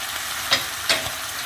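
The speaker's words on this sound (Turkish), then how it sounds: "Bakın arkadaşlar etimiz patır patır ses çıkarıyor." Steady sizzling and crackling of meat and onions in a frying pan, with two brief louder scraping bursts as the food is stirred.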